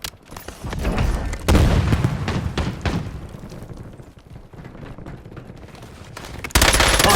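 Call of Duty Warzone battle royale gunfire in Verdansk, loud bursts of automatic weapon fire and heavy booms in rapid clusters, with a sharp new barrage at the end.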